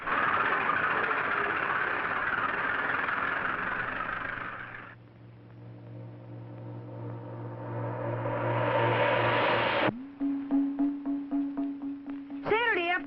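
A steady tractor engine drones loudly, then drops to a lower idle rumble before revving up again and settling into a throbbing mechanical chug.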